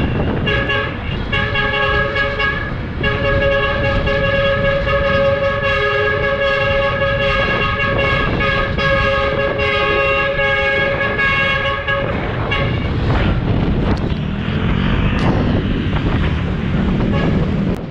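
A truck horn toots repeatedly in strong sustained blasts on a road in the Morong loop, honking at a passing single-speed cyclist, with heavy wind rush and traffic noise throughout and no talking.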